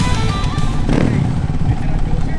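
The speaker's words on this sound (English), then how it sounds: "Julian Camacho and Cesar Camacho face off, both on their Suzuki RMZ 450s." Suzuki RMZ 450 dirt bikes launch in a drag race, their engines revving loud and close with a rising rasp as they accelerate away.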